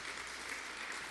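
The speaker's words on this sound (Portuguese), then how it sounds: "Dê um aplauso a Deus, Ele merece." A brief burst of dense, continuous applause from a large church congregation, filling the whole moment with steady clapping.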